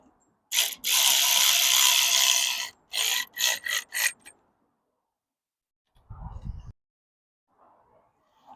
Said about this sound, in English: I'm fairly confident now we can ratchet these up like this.